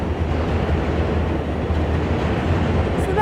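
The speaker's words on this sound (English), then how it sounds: "We'll watch as the train goes by while it foams." A train rumbles past nearby in a dense, steady roar of wheels and carriages that holds for the whole stretch, with no talking.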